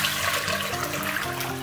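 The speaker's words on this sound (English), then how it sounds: "You just wanna make sure that you put it into a pot that is large enough for all that water" Filtered water pours steadily into a large pot, a continuous splashing, gurgling stream that holds close and fairly loud throughout, with no one speaking.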